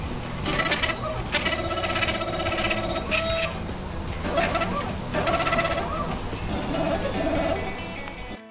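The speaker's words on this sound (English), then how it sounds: "Here we're using the MTM Snap machine to mill a circuit board" An MTM Snap milling machine driven by stepper motors mills a circuit board, its motors singing in whining, pitch-shifting tones that rise and fall in repeated bursts over a constant close mechanical whir.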